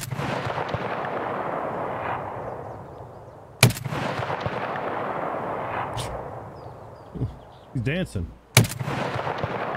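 .338 Lapua rifle fire in the video game Escape From Tarkov: two sharp, loud shots about five seconds apart, each ringing out over steady game ambience, with a brief spoken word near the end.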